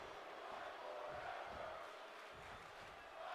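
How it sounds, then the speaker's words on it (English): Wrestling crowd at an independent pro wrestling show roars and cheers steadily during a close near-fall match, a loud continuous wash of voices without clear pauses. "The crowd getting behind this match."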